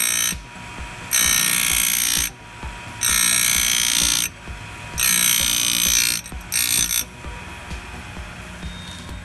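A grinding wheel sharpens chainsaw chain teeth in four or five short, loud, high-pitched bursts separated by brief gaps, close at hand over a low background hum.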